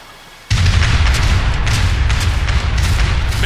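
Ship cannons fire in Age of Empires 3, opening with a sudden loud salvo and continuing as a dense rumble of repeated booming shots, no talk over it.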